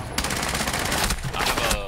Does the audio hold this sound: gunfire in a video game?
yes